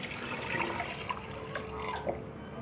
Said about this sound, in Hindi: और अब हम पानी डाल देंगे।